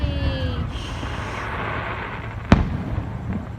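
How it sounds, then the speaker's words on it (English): Fourth of July fireworks in Palm Springs rumble and crackle at a distance, with one sharp loud bang near the middle standing out above the background noise. "Fireworks are louder than a gunshot."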